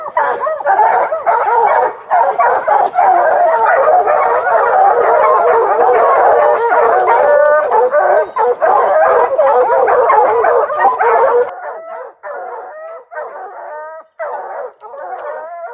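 Hunting hounds on a spring bear hunt bay and howl loudly and continuously in a chorus of overlapping voices, then fall to fewer, more spaced-out yips and bays toward the end.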